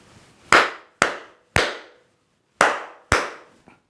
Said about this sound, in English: if I were to clap something for you